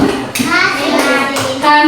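Schoolchildren in a classroom do a rhythmic clapping chant together, short bursts of hand claps mixed with their chanted voices, loud and close.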